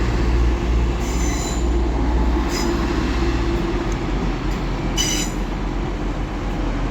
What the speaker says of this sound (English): with a Trans-Pennine Express service to Cleethorpes. With 185,